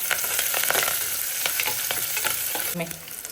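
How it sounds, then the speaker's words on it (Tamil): Onions and curry leaves fry in sesame oil with a dense, close crackling sizzle, broken by repeated stirring scrapes and sputters throughout. "இப்போ வெங்காயம், கருவேப்பிலை, 1 செகண்ட் நல்லா வெங்காயம் வதங்கட்டும்."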